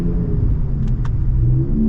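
A Ford Raptor pickup with Fox Factory Race Series shocks hums under acceleration, a loud, steady low engine rumble that rises slightly in pitch toward the end.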